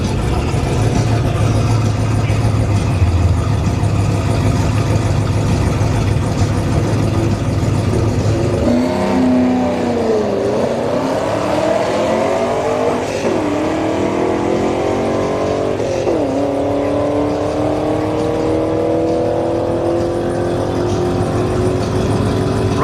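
A Honda Accord 2.0 turbo and a Camaro SS launching side by side at a drag strip. A loud rumbling idle gives way to engines revving and climbing through several gear changes, with the roar staying loud throughout.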